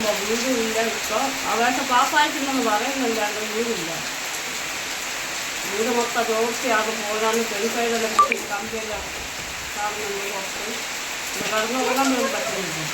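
Heavy monsoon rain in a settlement at Aralam Farm, Kerala, a constant hiss of falling water beneath a voice talking in stretches over it.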